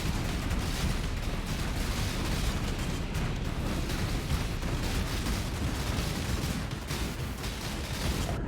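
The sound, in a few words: explosion in video game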